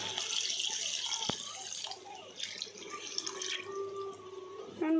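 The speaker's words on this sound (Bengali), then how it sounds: "এরপর আমি বাটিতে রেখেছি একটু গরম জল চিকেনের মধ্যে দিয়ে দেবো।" Hot water is poured from a bowl into a pot of chicken and potato curry, a soft splashing trickle close by with a brief clink, fairly quiet throughout.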